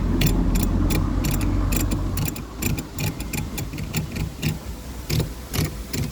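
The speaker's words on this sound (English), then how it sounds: "Nothing's happening with that, but then something's just started clicking down here." Rapid, irregular clicking from under the dash of a Lotus Excel after its heater blower is switched on, sharp ticks over a steady low engine idle, fairly close.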